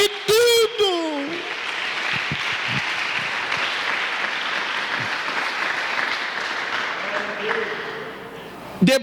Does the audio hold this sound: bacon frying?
no